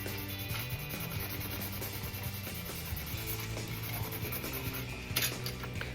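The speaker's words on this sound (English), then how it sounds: "So let's sand them and tack them to a Gonk droid." Salvaged plastic pieces being sanded by hand for a Gonk droid build, a steady, close rasping rub that continues throughout at moderate level.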